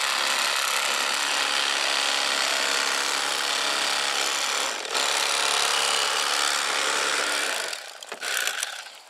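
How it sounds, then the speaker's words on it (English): Electric fillet knife cutting through a flathead fish, a steady buzzing reciprocating whir held close and loud for several seconds, then a brief drop and some rattling handling noise at the end, with no speech. "I'll come through and use the electric fillet knife and I float it just high up off the red meat"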